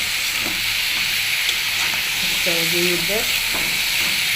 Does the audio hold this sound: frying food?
yes